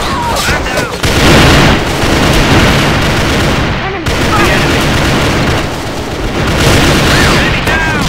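Heavy gunfire and a grenade blast in the online shooter A.V.A. (Alliance of Valiant Arms), loud continuous bursts with booming impacts, near and filling the mix, with faint radio-style voices underneath.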